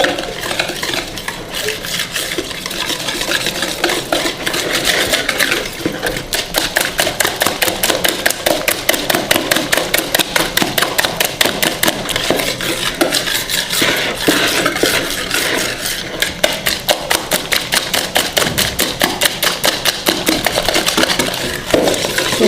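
Powdered sugar being mixed into cake rusk batter in a cooking pot, a spoon or whisk scraping and clinking steadily against the pot in a fast, continuous rhythm, close and loud with no talking.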